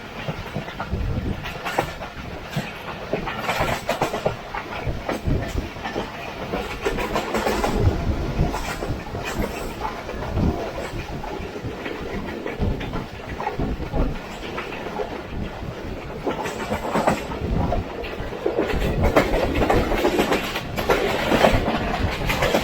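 A passenger train runs nonstop through Kalyan railway station in Punjab in rainy weather, heard from inside an economy-class coach: a steady rumble and clickety-clack of wheels over rail joints, continuous and moderately loud throughout.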